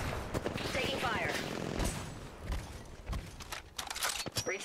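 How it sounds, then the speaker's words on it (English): Gunfire in the battle royale shooter Apex Legends, rapid shots and automatic bursts at middling distance in a busy firefight, with in-game voice lines over parts of it. "No, I'm getting shot at."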